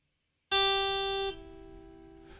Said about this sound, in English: if I pull away from the neck more at a 90 degree angle straight up, it sounds like this.